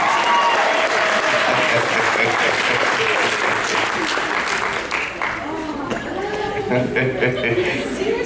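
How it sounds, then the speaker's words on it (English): A convention panel audience applauds a guest, a steady, loud wash of many hands clapping throughout, with murmurs, chuckles and a voice rising near the end. "let's give our speed racer, Crash Bandicoot, a round of applause"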